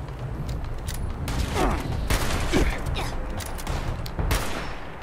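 Gunfire in the video game Fallout 76, several sharp shots scattered through a busy mix of game noise, with broad bursts standing out near the middle and end.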